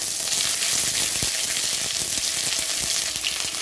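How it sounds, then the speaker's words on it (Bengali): Ginger and green chili paste fries in hot oil. A loud, dense crackling sizzle carries on without a break, with scattered sharp pops and a few stirring scrapes, and no one speaks. "তেলের মধ্যে আমি একটু আদা, কাঁচা লঙ্কা বাটা দিয়ে দিলাম।"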